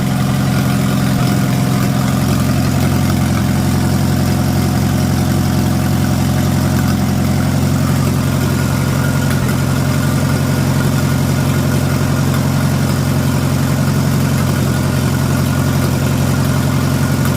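An old Farmall tractor engine idling steadily with a deep, throbbing drone and slight vibration, loud and close, continuous for the whole stretch with a small skip in its rhythm.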